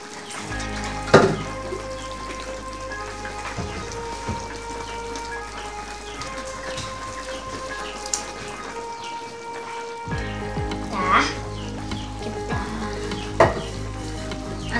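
Tomatoes frying and being stirred in a pan while cooking Palembang-style pindang patin fish, a steady close sizzle with occasional spatula scrapes and pops.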